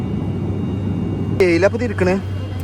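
A steady low engine drone fills an aircraft cabin, with a person speaking briefly over the constant hum.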